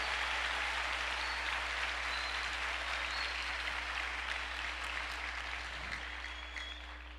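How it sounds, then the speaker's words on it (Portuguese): Church congregation clapping hard at a Brazilian service, a steady wash of many hands sounding somewhat distant and soft, holding evenly and then easing off toward the end. "Se for o Senhor, aplauda com mais força."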